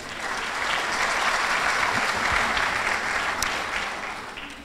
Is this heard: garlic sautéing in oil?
no